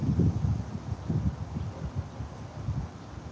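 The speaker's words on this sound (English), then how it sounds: "I gotta let the wind blow." Gusty wind buffets the microphone outdoors, a low rumbling roar that rises and falls in uneven bursts, with no talking.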